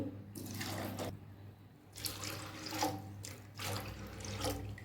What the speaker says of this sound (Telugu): మిల్లన్ వాటర్ వేస్తున్నా